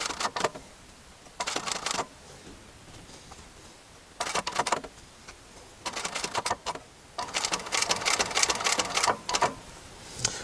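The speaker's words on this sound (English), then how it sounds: "So we're going to top stitch onto the border." A sewing machine top stitches along the border of a piece of upholstery in short repeated bursts of rapid mechanical clatter, close and fairly loud, separated by quiet pauses, with the final run longer than the others.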